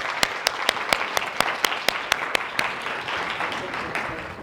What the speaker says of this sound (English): she needs an applause